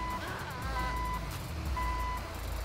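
Tow truck in the GTA 5 game giving steady reversing beeps over a constant engine rumble, two runs of evenly spaced tones.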